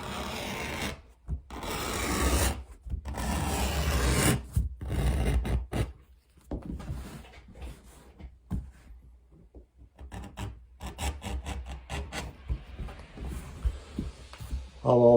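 Edge of a Conker English bridle leather briefcase panel being beveled and trimmed, with repeated close rasping, scraping strokes in bursts separated by quiet pauses, ending with finer, lighter scraping.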